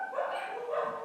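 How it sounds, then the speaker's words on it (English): A dog lets out a short, close bark or yip indoors, a single brief burst aimed at a UPS delivery man at the door. "I'm sorry if you can hear my dog barking."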